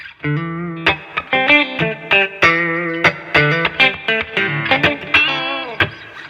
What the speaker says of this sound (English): you get a really nice freaking awesome reverb